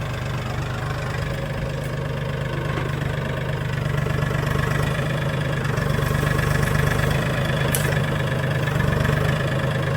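Mahindra 1635 tractor with a stump bucket loader, its diesel engine running steadily up close with a low, even, slightly knocking throb for ten seconds, no voices.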